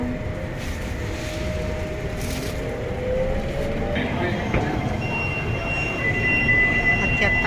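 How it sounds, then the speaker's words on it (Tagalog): An airport train runs with a steady rumble and rail noise, rising slightly toward the end with faint squeals and a brief tone, close and continuous with no voices heard. "Dito na tayo sa train."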